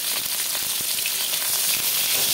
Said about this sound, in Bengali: এই তেলে আমি পটলগুলোকে ভেজে নেব।